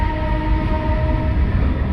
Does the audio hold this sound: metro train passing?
yes